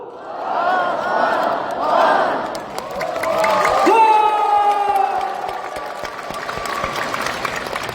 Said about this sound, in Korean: 여러분들 원을 삼창해 주시고 킨텍스 천장이 날아갈 수 있도록 크게 우레와 같은 박수를 쳐주시기 바랍니다